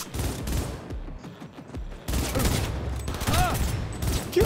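Enemy gunfire in Cyberpunk 2077 comes as repeated bursts of shots across the span, fairly loud and close, with short gaps and some swelling game sound effects.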